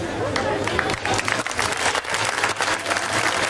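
Audience applause for a school theater performance by primary pupils of the 4th Elementary School of Thermi, a steady, dense clapping that holds for the whole stretch with some crowd noise mixed in.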